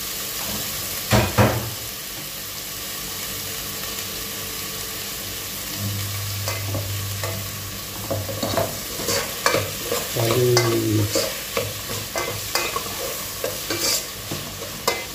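Tomatoes for pinakbet sauté in a pan with a constant close sizzle, while a utensil stirs and scrapes in irregular bursts that grow busier and more rhythmic in the second half.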